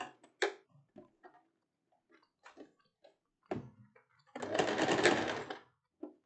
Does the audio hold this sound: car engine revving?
no